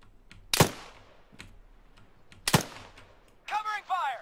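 Gunfire in ARMA 3 on a street: two loud, sharp rifle cracks a couple of seconds apart with faint scattered shots between them, followed by a voice talking.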